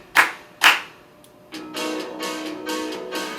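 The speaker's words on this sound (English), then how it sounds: "clap your hands 3 times." Hands clap sharply twice in quick succession, loud and close, then a faint third tap, followed by a softer, rhythmic rustling patter.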